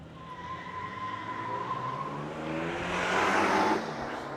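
Third- and fourth-generation Toyota Tacoma trucks launch in a drag race, a somewhat distant engine roar and tire noise building and swelling toward the end, with no talk.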